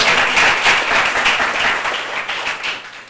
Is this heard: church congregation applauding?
yes